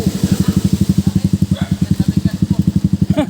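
A motorcycle engine idles close by as passengers get ready for a mountain ride, putting out a steady, rapid low throb that runs throughout, with voices talking faintly underneath.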